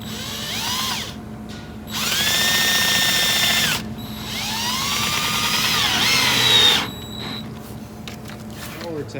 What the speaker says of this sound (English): I'm gonna throw maybe a screw in every other one, especially where there's a gap.